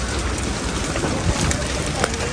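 Steady rain pours down outdoors, a dense continuous hiss of drops hitting surfaces with no break, loud and close, with no voices.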